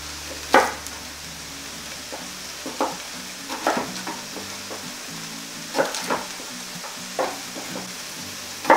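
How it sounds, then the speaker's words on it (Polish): Diced bacon renders in a hot pan with a steady, close sizzle, and sharper pops and crackles burst out every second or so. No voices are heard. "I po prostu wytapiamy. Boczek się wytapia"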